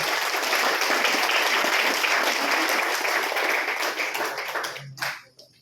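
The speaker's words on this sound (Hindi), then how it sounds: "तो मैं आप सभी के बीच में आपकी जोरदार तालियों के बीच में बुलाना चाहूंगा मिसेस धरा पारिक को।" An audience at a training seminar claps loudly and steadily for several seconds before the applause thins out and stops, followed by a brief tap.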